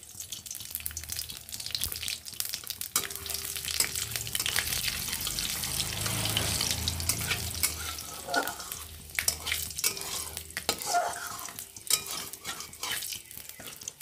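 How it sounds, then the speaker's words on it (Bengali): Panch phoron spices and dried red chilli fry in oil in a kadai, giving a steady, moderate sizzle with scraping stirring sounds running throughout. "পাঁচফোড়নটা ভাজা হয়ে গেলে"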